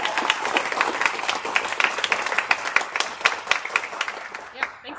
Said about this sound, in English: So I want to give those kiddos a round of applause.